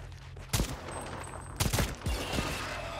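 Gunfire from the shooter game Second Extinction: a few sharp bursts of several rapid shots each, loud and close against a low steady background rumble, with no talk.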